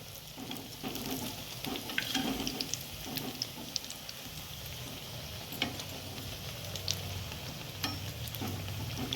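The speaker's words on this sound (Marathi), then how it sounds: "तळून घ्यायचं." Patties fry steadily in oil in an iron kadai, with a constant sizzle and occasional scraping and stirring clatter, close up, with no voices.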